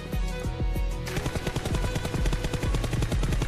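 Scoped M416 rifle with full attachments in a shooting game fires in rapid, evenly spaced automatic bursts, loud, sharp and close, with a short pause before a longer continuous string of shots.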